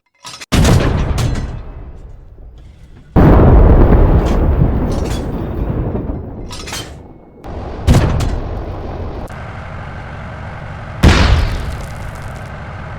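Several heavy tank cannon blasts in the video game Arma 3, each a sharp loud boom followed by a rumbling decay, spaced a few seconds apart with no talking.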